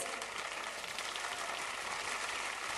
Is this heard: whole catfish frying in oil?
no